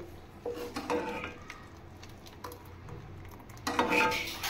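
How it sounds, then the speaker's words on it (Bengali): A spoon scrapes and clinks against a metal strainer while hot mozzarella cheese curds are scooped into it, giving soft intermittent scraping and a brighter clatter near the end, close and fairly quiet. "তাই আমি চামচের সাহায্যে এভাবে ছাঁকনিতে নিয়ে সবগুলোকে ছেঁকে নিচ্ছি"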